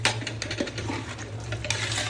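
Biryani with about five kilograms of meat and fish being stirred in a large pot, a steady scraping and sizzling churn with a constant low hum of the burner underneath, no talking.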